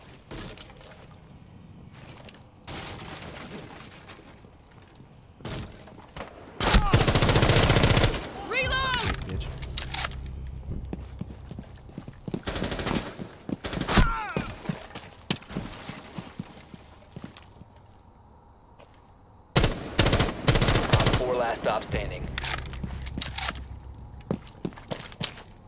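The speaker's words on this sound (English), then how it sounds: "We're getting shot at, yeah." Gunfire in the video game Rainbow Six Siege, with loud broadband bursts of shots clustered in a couple of sharp volleys amid game ambience, while players talk over the action.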